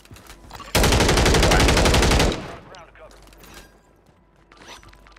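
Sniper rifle fire in a Call of Duty match, a rapid, loud burst of shots lasting over a second, followed by softer scraping and movement sounds.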